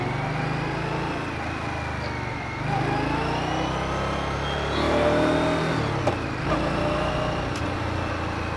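CFMoto 450 CLC Bobber or Indian Scout Bobber Twenty motorcycle pulling hard in first gear, a steady near engine drone with a rising surge around the middle, no talk.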